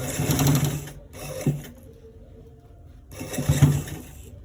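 Close, loud bursts of a sewing machine stitching a collar roll, two runs of rapid stitching with a brief quieter pause between them.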